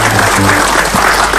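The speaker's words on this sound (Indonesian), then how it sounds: "Tepuk tangan dulu buat saya." Loud, dense applause from a television studio audience on an Indonesian talk show, continuous clapping across the brief moment with a little voice mixed in underneath.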